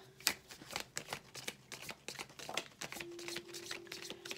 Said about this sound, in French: Je vais prendre 5 cartes.